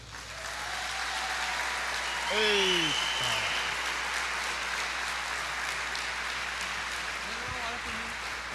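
A church congregation breaks into sustained applause that fills the whole clip, steady and dense, swelling slightly midway, with a voice briefly calling out over the clapping.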